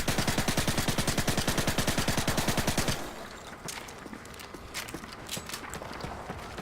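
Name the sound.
silenced UMP gunfire in video game MW2 Remastered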